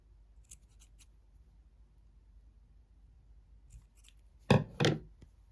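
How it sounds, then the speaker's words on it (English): Scissors trimming a crocheted amigurumi piece: a few faint snips early on, then two louder close cutting bursts near the end, with quiet room noise in between and no talk. "I'm going to trim it down a bit more"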